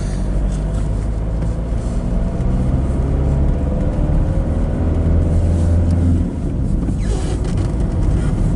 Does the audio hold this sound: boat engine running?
yes